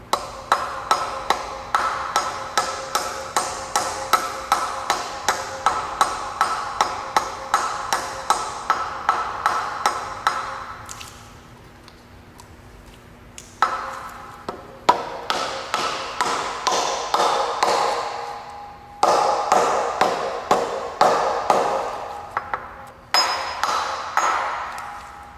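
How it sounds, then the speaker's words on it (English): A hammer taps a brass part into an interference fit during a 2001 GMC Sonoma 2.2L engine replacement, giving sharp metallic pings in steady rapid runs, close and loud, broken by brief pauses. "it's just an interference fit in the back here, and you just got to tap it in."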